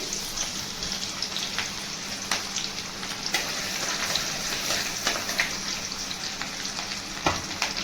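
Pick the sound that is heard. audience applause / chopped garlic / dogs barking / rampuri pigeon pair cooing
chopped garlic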